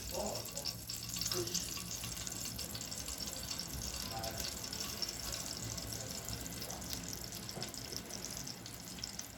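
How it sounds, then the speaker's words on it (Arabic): Sugar caramelizing slowly in a pan greased with ghee gives a steady, close sizzle and soft bubbling that runs the whole time with no break, along with a few faint kitchen clinks. "السكر يتكرمل معانا اهو"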